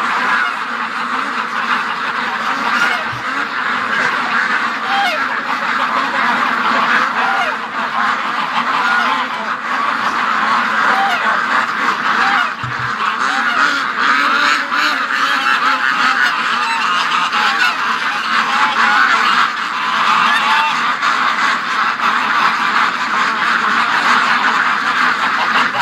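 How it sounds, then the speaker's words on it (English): A crowd of ducks quacking nonstop outdoors, a loud, dense chorus of overlapping calls close by, with no pauses for the whole stretch. "let's let the ducks out"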